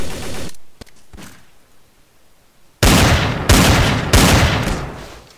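Several loud, close sniper rifle shots sound in the game TTT. A few sharp cracks come first, then a quieter stretch, then three heavy booming blasts in quick succession, each with a long tail. No one speaks.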